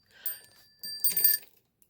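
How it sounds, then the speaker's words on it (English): A bicycle bell, knocked by accident, gives a brief bright ring that fades out, heard close and alone with no talking. "Sorry, ran into my bell."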